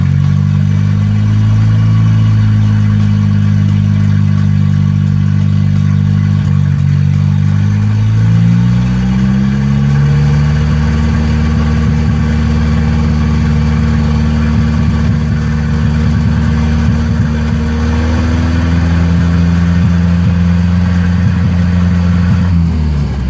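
A Volvo drift car's engine idles steadily and loud throughout, a low rumbling drone with a slight shift in pitch partway through and no one speaking.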